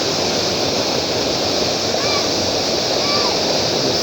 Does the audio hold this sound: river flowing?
yes